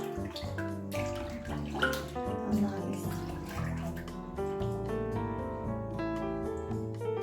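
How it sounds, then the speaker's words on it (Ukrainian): Water pours and splashes steadily into a container, with a faint voice speaking in the background, as water is poured off while measuring the fat content of Jersey cow milk. "Ми зараз воду зільємо."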